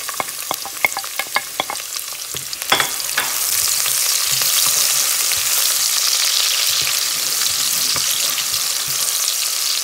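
Sliced onions drop into hot oil in a pan, first with a few scraping stirs and clinks, then a loud, steady frying sizzle spreading out and filling the rest, close and continuous.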